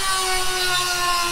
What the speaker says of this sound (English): I'm gonna have to grind it out with like a Dremel-like tool so that it is big enough in order to fit it